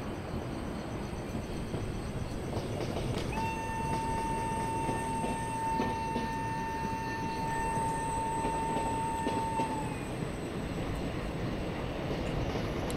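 Train engine of the Jan Shatabdi Express on the Kozhikode to Trivandrum route in Kerala, from a train simulator game: a steady, close rumble, with a long, level horn blast sounding over it partway through.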